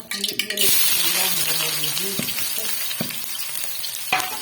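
Steady sizzling of chopped onions frying in hot oil, loud and close, with a few clinks and stirring sounds over the crackle.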